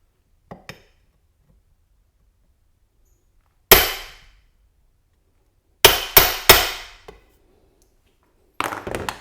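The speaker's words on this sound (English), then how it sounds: "just use a little hole punch here to get a place where I want my drill to start" A hammer strikes a small hole punch on a DIY guitar hanger to mark where a drill will start: one faint tap, then a single sharp strike, then three quick close metallic hits, and a last cluster of taps.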